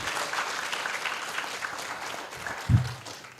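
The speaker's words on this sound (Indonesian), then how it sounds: "Beri tepuk tangan untuk kedua panelis kita hari ini." Audience applause for two panelists at an Indonesian book launch event, a steady wash of clapping from a seated crowd throughout, with a brief low thump near the end.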